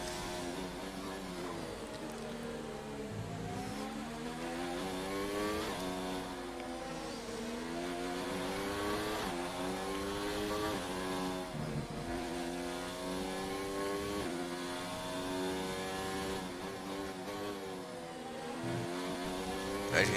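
A Formula 1 car engine roars through a race in F1 2019, pushed hard on fresh tyres. The high, steady whine rises and falls with repeated upshifts and downshifts, staying close and loud throughout with no talk.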